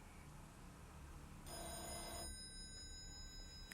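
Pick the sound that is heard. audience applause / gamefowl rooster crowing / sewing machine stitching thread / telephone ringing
telephone ringing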